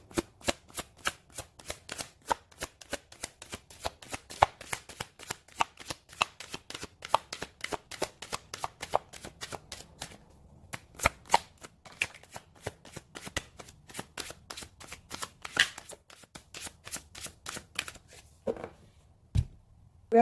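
Tarot cards being shuffled by hand for a reading: a long run of crisp, rapid riffling slaps and flicks, close and fairly loud, with brief pauses between bursts and no talking.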